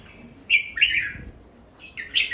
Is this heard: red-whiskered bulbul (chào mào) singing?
yes